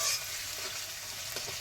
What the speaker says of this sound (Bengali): একটু নেড়ে চেড়ে পেঁয়াজগুলি ভেজে নিক